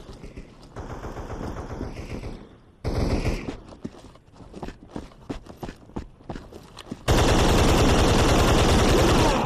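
Video game gunfire rattles in quick automatic bursts and scattered single shots, then gives way to a loud, unbroken roar of firing in the final seconds.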